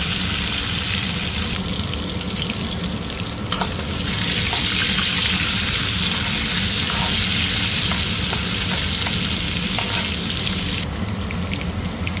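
Garlic, dry red chillies and mustard seeds frying in hot oil for a tangy crab curry, a loud continuous sizzle with crackling pops and a few stirring scrapes, close and without talk.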